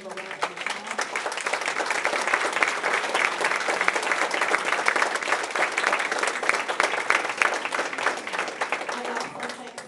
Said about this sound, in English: If you can give a round of applause